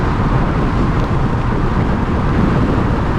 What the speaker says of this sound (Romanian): Tot se aude vânt.